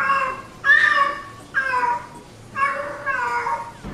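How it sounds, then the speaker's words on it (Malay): Cat in heat yowling, four or five drawn-out wailing cries with pauses between them, loud and close, no speech. "bunyi kucing tengah on heat macam ni"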